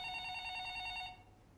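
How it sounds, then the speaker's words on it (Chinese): An office telephone rings in a law firm, a bright electronic trill heard once at moderate distance that cuts off after about a second. "你听到她的电话响了"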